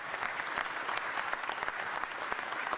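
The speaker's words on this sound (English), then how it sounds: "Yes, give that a round of applause." A dense, steady wash of crowd applause fills a public gathering where a Philadelphia mayor-elect names the city's next police commissioner. The clapping is loud and continuous, with no voices over it.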